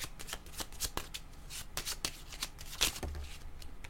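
Tarot cards being shuffled by hand, a run of crisp riffling flutters and soft slaps repeating in quick bursts, close and fairly quiet with no voices.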